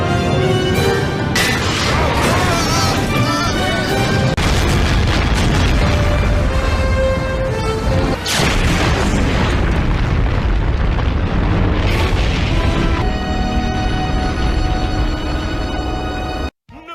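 Cartoon explosion in the animated series Histeria!, a loud sustained boom and crashing blast with rumbling debris that roars for many seconds before cutting off abruptly.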